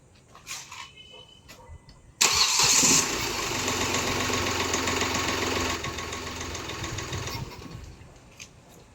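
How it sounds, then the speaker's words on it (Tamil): A Hyundai diesel car engine being checked for an air lock cranks and catches abruptly, then settles into a loud, steady, clattering idle for several seconds before quieting. "இந்த வண்டி ஸ்டார்ட் பண்ணி பாருங்கள்."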